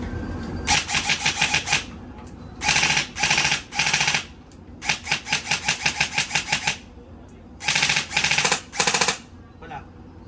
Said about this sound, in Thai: สำหรับคลิปนี้เดี๋ยวพี่โหลดเทสยิงให้ดู